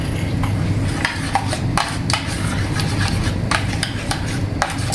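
Yogurt gets stirred with a spoon in a vessel, loosened with cumin powder and garam masala for a vegetable masala pulao, giving repeated scraping and clinking strokes in an irregular rhythm, near and clear.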